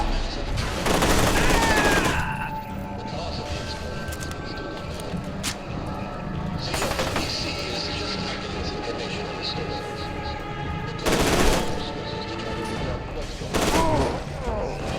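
Loud bursts of machine gun fire in the first-person shooter F.E.A.R. 2: Project Origin, coming in three separate volleys between quieter stretches with a low hum and scattered game sounds.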